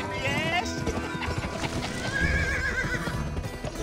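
Horse hooves clip-clopping at a steady gait with a whinnying neigh in the Western game Gun, close and continuous, while a voice talks over it.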